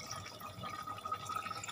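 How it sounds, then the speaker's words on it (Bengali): Water poured into a handi of Champaran-style mutton during cooking, a steady faint liquid stream with a light ringing tone running continuously, no voices. "এবারে দিয়ে দেবো জল।"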